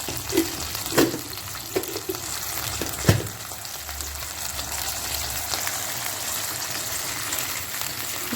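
Sweetened tempering liquid for dhokla bubbling in a pan with sugar, stirred now and then, giving a steady near sizzle-and-simmer hiss with a few sharp spoon scrapes and clinks; no voices.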